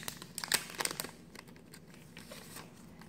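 Plastic wrapping of a felted sticker pack crinkles and tears in a quick burst of close, sharp rustles, then settles into softer faint handling noise.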